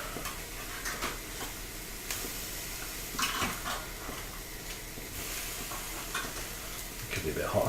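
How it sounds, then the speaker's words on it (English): Meat sears in a hot pan with a steady sizzling hiss, broken by occasional clinks and scrapes as the pieces are flipped with tongs, while a voice is heard faintly in the background. "Give these a quick flip because I really just want them nicely seared."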